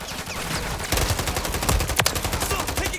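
Rapid automatic gunfire from Call of Duty MW3 on the Rust map, a loud, dense burst of overlapping shots with sharp cracks and a few heavier reports, continuous for several seconds.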